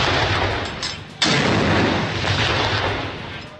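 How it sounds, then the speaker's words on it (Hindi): Cannon salute of 21 guns at a stadium in Peshawar, Pakistan: a heavy boom cuts in midway over continuous loud rumbling crowd or ambient noise, with no speech. "पिशावर के कर्नल शेर खान स्टेडियम में भी 21 तोपों की सलामी दी गई।"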